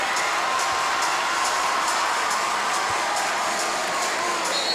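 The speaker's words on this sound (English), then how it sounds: "you see the Maple Grove student section cheering for Zach" A Maple Grove student section at a high school boys basketball game against Osseo cheers for an injured player, a steady, dense crowd roar with scattered shouts and whoops throughout.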